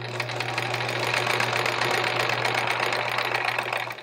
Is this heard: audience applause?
no